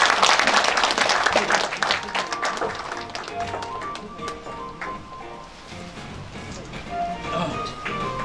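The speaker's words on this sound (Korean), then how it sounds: "큰 박수만 해주십시오." Audience applause at a Korean-Japanese enka song exchange ceremony and award presentation, a dense burst of clapping that starts strong and gradually thins, with an announcer's voice briefly over it.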